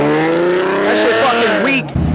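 Car engine revving loudly and close, the pitch sweeping up and down through several rises before cutting off abruptly, with voices talking over it.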